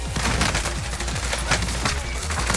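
Gunfire in the video game Call of Duty: Warzone comes as a rapid, loud burst of shots that continues throughout, dense and close, with no talking.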